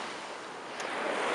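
Ocean surf washes onto a sandy beach, a soft hissing rush with some wind that swells gradually louder toward the end.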